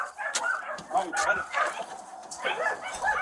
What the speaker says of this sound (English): All those puppies in them cages are Great Danes.